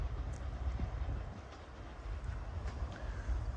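A train pulls into a rural station in Devon, a steady low rumble and rail noise with faint squeals above, continuous and moderately close.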